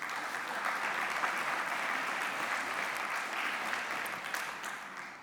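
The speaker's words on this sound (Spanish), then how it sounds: "Un aplauso." An audience at a panel on film festival funding applauds, dense steady clapping from many hands that holds for several seconds before starting to fade.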